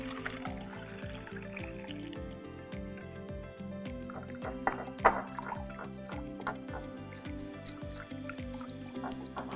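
Milk is poured into a bowl of beaten eggs, giving a soft liquid trickle with faint drips and rhythmic tapping in the background. The sound is quiet and close, without speech.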